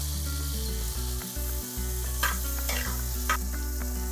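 Chopped carrots, green peas, cauliflower and aubergine sauté in a hot pan for masale bhat, giving a steady close sizzle with brief stirring scrapes.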